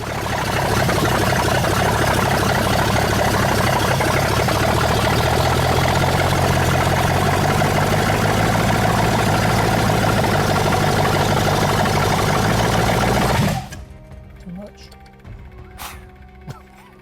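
A Ford engine at its first start-up runs roughly with a loud, close, uneven drone for about thirteen seconds and then cuts out abruptly, leaving quiet with a few small clicks; voices are faintly present.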